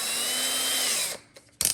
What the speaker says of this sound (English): I want to drill 4 holes